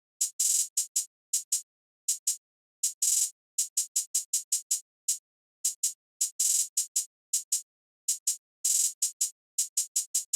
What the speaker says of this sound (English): I have this hi-hat, the Luca hit hi-hat out of my Starstruck multi-kit